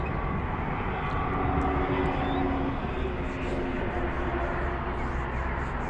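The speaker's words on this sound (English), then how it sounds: "this another airplane is about to take off" A plane taking off at Harry Reid airport sends out a continuous, broad jet engine roar with a rumbling low end, fairly loud and unbroken from start to finish.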